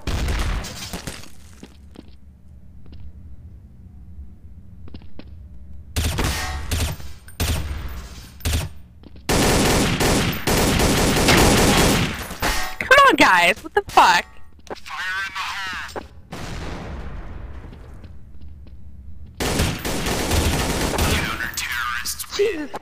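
Counter-Strike: Source gunfire comes in several loud rapid bursts separated by quieter gaps, with players talking throughout the match.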